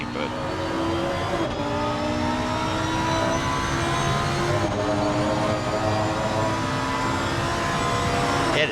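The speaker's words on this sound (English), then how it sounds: "This car just sounds so amazing. I don't know what it is about a Lamborghini" A Lamborghini race car roars steadily through a sim-racing broadcast at Silverstone, its engine tone holding loud and continuous with slight pitch shifts and another car's note mixed in, while a commentator talks over it.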